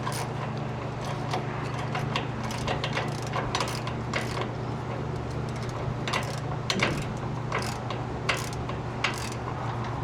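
Sway bar bushing bolts on a Ford Raptor are tightened with a ratchet, rapid clicking pawl bursts repeating over a steady low hum, close by, with no voices.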